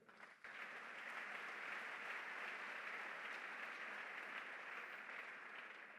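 A church congregation applauding to acclaim the Lord during a sermon, a dense, sustained wash of clapping from many hands that holds steady throughout.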